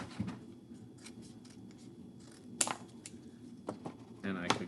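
Scissors snip a bumpy, wavy cut through recycled paper with a string of soft, quiet crunching clicks and rustles, while a voice talks underneath.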